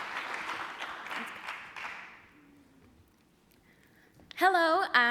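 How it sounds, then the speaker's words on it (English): Auditorium audience applauding panelists at an entrepreneurs club event, a broad wash of clapping that fades away over about three seconds, followed by a quiet stretch and then a voice starting to speak near the end. "why don't we have one more round of applause for our panelists"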